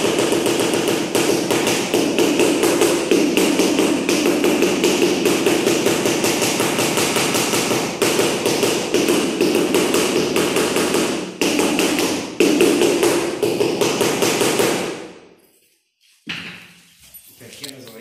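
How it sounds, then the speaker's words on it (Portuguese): Small hammer tapping on a living-room floor during house work, rapid steady close taps repeating for about fifteen seconds, then stopping with a few quieter sounds afterward. "agora o martelinho."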